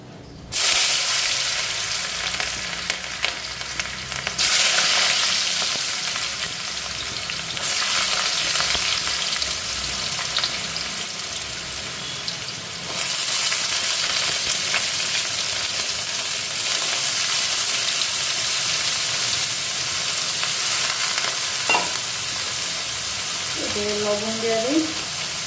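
Potatoes frying in hot oil in a wok (kadai), a loud, continuous close-up sizzle and hiss that swells and settles as pieces are added, with a short voice heard near the end.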